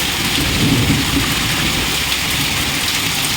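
Heavy rain pours down in a steady, dense roar, loud and close, with no voices.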